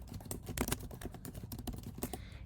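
Rapid typing on a computer keyboard, close and fairly quiet, with irregular clusters of key clicks and a few louder taps.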